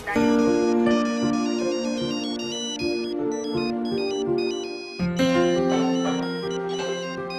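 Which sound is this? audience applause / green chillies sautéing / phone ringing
phone ringing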